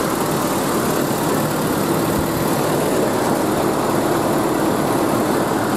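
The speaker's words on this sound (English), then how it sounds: "So now the AC is cycling." A 1989–1995 Toyota pickup idling steadily after an A/C conversion, with the compressor cycling; a close, continuous broadband engine drone with no talk.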